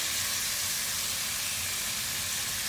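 Steaks searing in a hot pan with canola oil and margarine give off a continuous, dense hiss of sizzling that stays level from start to end, close and fairly loud.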